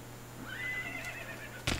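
Horse neighing in the Minecraft Technic Pack video game, a wavering whinny of about a second at moderate loudness over a steady low hum, followed by a short sharp thump near the end.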